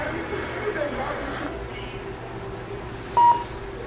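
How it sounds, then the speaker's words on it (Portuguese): A single short electronic beep from a powered-on Altera CPLD development board, sounding once near the end over a low steady hum of room noise, with faint traces of speech earlier. "Não sei se você ouviu o bip"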